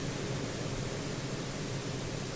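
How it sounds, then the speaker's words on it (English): Airwindows PaulWide high-pass dither noise, heard through very low bit-depth audio with reverb, forms a steady, even hiss that runs unbroken at a constant moderate level, with no voice over it. "PaulWide, which is the high-pass dither that Paul Frindle talked about"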